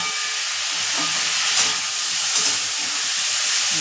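Capsicum frying in a hot pan, giving off a loud, steady hiss and sizzle with steam, and a couple of brief stirring scrapes, heard close with no talking.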